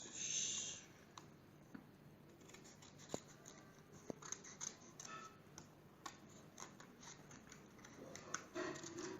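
Scissors cutting a thin paper strip for a papercraft hammer build, heard as quiet scattered snips and crisp paper rustles, close but faint, with no talk.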